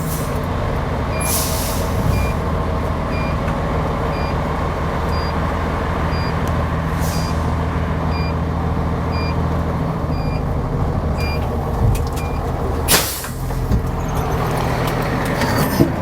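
A 75-foot rear-mount fire ladder truck pulls out of the station with a steady heavy diesel rumble and a repeating reversing beep throughout, and hissing air-brake bursts break in near the start, middle and end.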